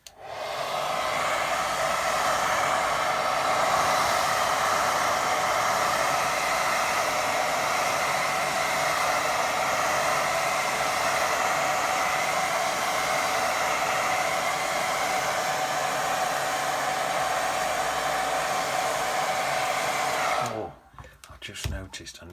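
A hair dryer blows steadily over a watercolour painting to dry it, a loud, even whooshing roar that runs unbroken for about twenty seconds before cutting off, close up with no speech.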